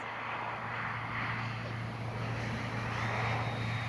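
An FMS 70mm Avanti S V3 RC jet makes a low pass, its steady ducted-fan roar filling the air, with a rising whine toward the end and wind noise underneath.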